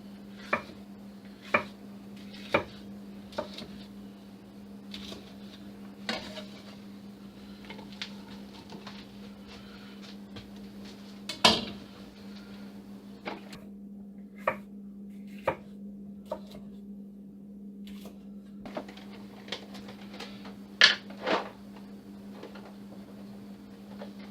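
A knife chops through tough vegetable skin on a board in sharp, separate cuts, sometimes in quick pairs, against a steady low hum. The cuts are fairly close and moderately loud, with nobody talking.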